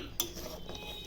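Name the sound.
fish pieces added into simmering curry in a pot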